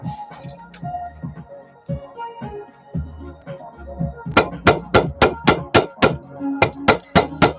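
Sharp, regular hammer strikes ring out close by, about a dozen quick blows in steady rhythm after some quieter handling noises at the start.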